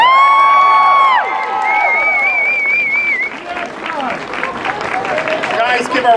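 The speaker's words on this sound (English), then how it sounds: "give our winners a big round of applause!" Crowd at the Bellehouston Glasgow Comic Con cheers, whoops and claps for the cosplay prize winners, loud and close, with shrill shouts and high excited voices rising over a continuous wash of applause.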